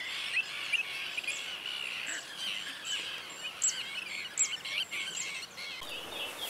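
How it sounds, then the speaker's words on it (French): Birds calling in the distance over coastal marshland by the Château de Suscinio in Brittany near the sea, faint chirps and tweets scattered steadily across a soft outdoor ambience with no talking. "Je ne sais pas si vous entendez les oiseaux."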